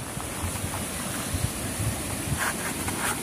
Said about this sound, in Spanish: se escucha un montón de agua por ahí